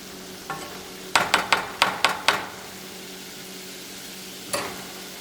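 Food being mixed in a pan: a quick run of six sharp clacks and scrapes of a utensil against the pan, then a pause and one more knock, over a faint background sizzle and hum.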